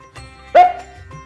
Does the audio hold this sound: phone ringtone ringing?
no